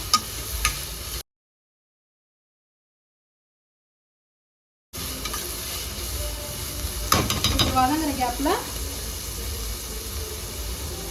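Onion and tomato sizzle softly in a hot pan, with a brief silence, then scraping and stirring sounds over the steady frying hiss.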